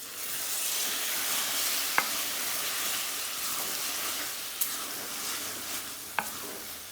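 Aubergine bhajee (brinjal bhajee) bubbling and sizzling in a pan, a steady close hiss of frying with stirring and a few sharp utensil clicks, no voices.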